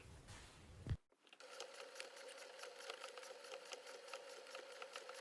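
After a brief rustle and a thump, a sewing machine stitching a folded corner of a fabric apron settles into a steady, quiet mechanical hum with a fine rhythmic ticking, heard up close and alone.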